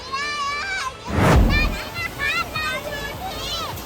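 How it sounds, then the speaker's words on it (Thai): Children shout and play in the water at the Doi Saket waterfall, high excited voices over a steady rush of water, with a brief loud splash near the middle. "น้ำตก"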